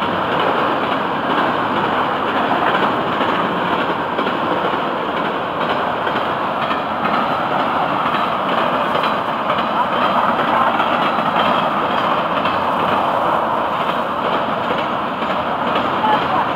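Steady rumble and clatter of freight train cars, including a Providence and Worcester Railroad car, rolling past close by, continuous and unbroken, with a faint voice now and then.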